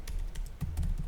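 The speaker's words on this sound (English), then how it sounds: "I'm typing on my computer." Typing on a computer keyboard, a quick rhythmic patter of close, distinct key clicks over about a second, with a low background hum.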